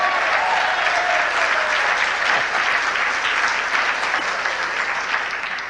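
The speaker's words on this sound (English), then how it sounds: "Well, go ahead and clap then." An audience applauds loudly and continuously, a dense wash of clapping that slowly tapers toward the end.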